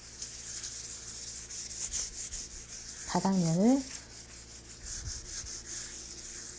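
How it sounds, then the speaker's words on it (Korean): Soft, continuous rubbing and light sanding across a painted wooden folk art piece to smooth it, a steady close scraping hiss, with a brief spoken remark partway through. "전체적으로 살살 한번 문질러 주시고요"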